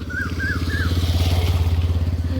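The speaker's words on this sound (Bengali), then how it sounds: "পিছনে একটা বাইক এসেছে" A motorbike passes along a village road, its engine a loud, close, throbbing drone that builds and holds steady, with a few faint bird chirps early on.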